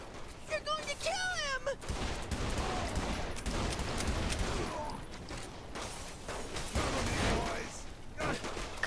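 Gunfire in the video game Saints Row: The Third crackles in dense bursts under a busy, loud mix with shouting voices and other game sounds.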